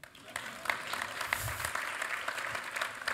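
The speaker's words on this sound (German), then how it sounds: "Und dann einen kleinen Applaus bitte." Audience in a talk-show style event gives a short round of applause, moderate and fairly close, with scattered claps rising and falling over a few seconds and a faint voice underneath.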